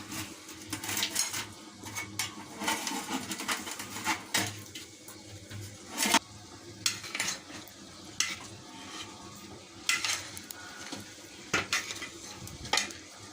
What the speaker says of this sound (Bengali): আমি এখন হাঁড়িটা খুলবো।